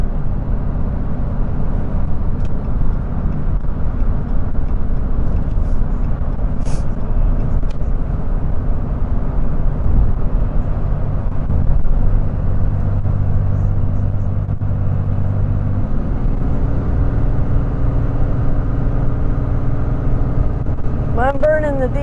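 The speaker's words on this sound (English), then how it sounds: "We must be getting into Knoxville traffic now." A truck rolls through road traffic on the approach to Knoxville, Tennessee, giving a steady, loud low engine and road rumble with a slight shift in tone partway through.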